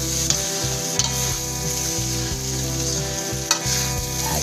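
Rice stirred and fried in a pan, a steady sizzle running throughout with repeated scraping strokes of the spatula at a close, even level; no talking.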